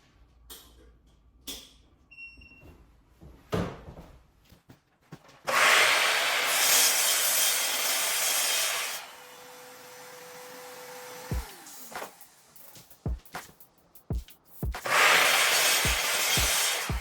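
A wood base being cut to match a frame's dimensions: two long, loud stretches of rough, steady cutting noise, separated by quieter knocks and handling sounds, with no talking.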